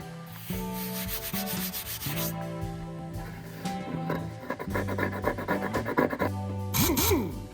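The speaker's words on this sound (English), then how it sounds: "I'm doing yet another round of sanding to remove this bodge respray and do one that's better" Steady rhythmic rubbing of sandpaper over a car's turbo bonnet, back-and-forth strokes continuing throughout with light music underneath.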